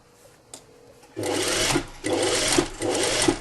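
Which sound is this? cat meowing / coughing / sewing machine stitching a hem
sewing machine stitching a hem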